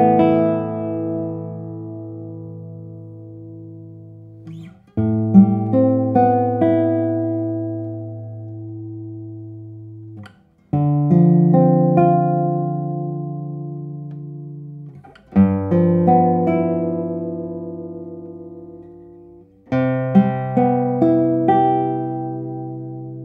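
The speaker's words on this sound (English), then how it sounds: "Oh my god, this is such a loud guitar, and you have a very long sustain." Heavy Australian classical guitar with a lattice-braced top, strummed and plucked in five separate phrases, each attack ringing out loud with very long sustain before the next begins; no voices.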